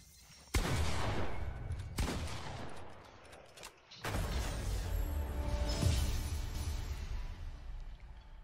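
Video game gunfire in Fortnite rings out in loud bursts, several sharp volleys separated by brief pauses, then a longer sustained stretch of rapid shots.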